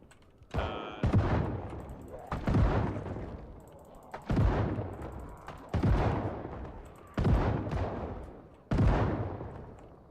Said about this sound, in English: He's using a pistol.